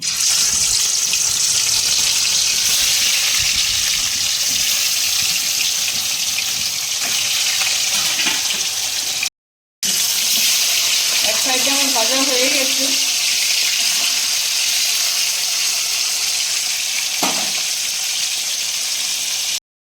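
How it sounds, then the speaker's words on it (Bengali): Katla fish frying in hot mustard oil gives off a loud, steady sizzling hiss that runs almost the whole time, broken by one short pause, with a faint voice-like murmur partway through. "গরম হয়ে গেছে সর্ষের তেল আমি এখন দিয়ে দিচ্ছি মাছটা দিয়ে দিচ্ছি"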